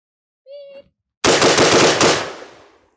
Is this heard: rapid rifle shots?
yes